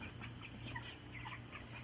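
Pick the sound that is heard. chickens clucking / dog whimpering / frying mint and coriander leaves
chickens clucking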